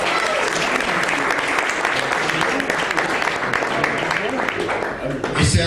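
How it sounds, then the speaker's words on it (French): A crowd at a slam poetry competition applauds a poet after the scores are read, steady full clapping throughout with faint cheers in the mix, ending in a brief louder burst of noise. "On peut applaudir la poète"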